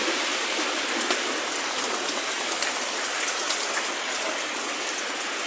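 Heavy, steady rain falls during a flood in the Kibera slums, a dense continuous hiss with scattered drips and patters on surfaces. The sound holds level throughout with no voices.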